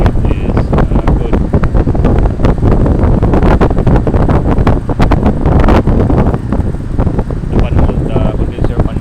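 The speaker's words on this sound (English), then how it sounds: "The condenser fan motor is running in good condition." An air conditioner outdoor unit's condenser fan motor running, giving a loud, steady whooshing roar of rushing air with thuds and buffeting, heard close up.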